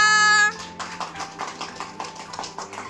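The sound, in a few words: applause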